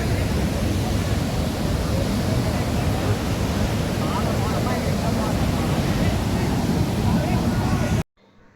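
Athirapally waterfall in Kerala in September sends out a loud, steady roar of rushing water, dense and unbroken like heavy surf, filling the scene until it cuts out abruptly near the end.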